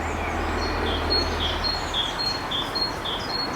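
A robin and a great tit call outdoors in spring, with short high chirps and whistled notes repeating at intervals over a steady background hiss of distant traffic.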